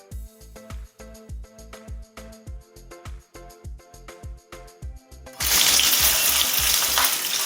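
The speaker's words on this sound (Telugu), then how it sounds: "ఈ పోపు వేగుతుందండి." A tempering of curry leaves, ginger and green chilli frying in oil for mango pulihora, first a rhythmic run of stirring scrapes, then a loud, steady sizzle and crackle close by.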